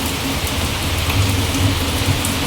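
Heavy rain pours down in a loud, dense, steady roar, with close patters of drops hitting surfaces and no speech.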